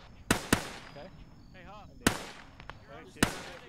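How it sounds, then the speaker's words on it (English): Smoke grenades go off in a military video game: four sharp pops spaced irregularly, each followed by a brief hissing tail, over a quiet background with a faint warbling tone in between. "Alright, putting some smoke grenades out and then we're moving."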